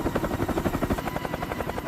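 Heavy transport helicopter rotors, a CH-53K or Mi-26, beating in a fast steady rhythmic thump, loud and close, with no voices.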